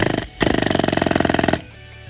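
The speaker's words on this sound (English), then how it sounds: "Here I have a little baby air hammer." A small air hammer, used on a go-kart axle bolt, rattles in two rapid bursts, a short one then a longer steady hammering, loud and close, followed by quiet.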